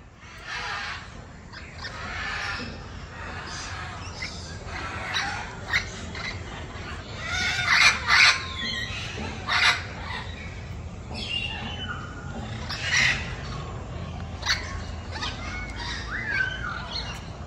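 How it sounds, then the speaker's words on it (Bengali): A flock of green and black parrots in an enclosure at Eco Park Zoo in Kolkata, squawking and chirping in repeated loud bursts that overlap, fairly close, with noisy outdoor ambience underneath. "আর এই একটা জায়গার মধ্যে প্রচুর টিয়া পাখি দেওয়া আছে। আর আওয়াজটা দেখো"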